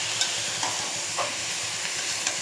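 A spoon scrapes and swishes through rajma beans and rice in a pot. The stirring strokes are soft and repeated, and a gentle sizzling hiss runs underneath.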